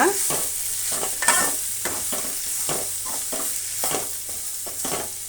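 Chili powder and turmeric are stirred into tomato frying in a pan for potato curry, with a steady run of close scraping strokes over a soft, continuous sizzle.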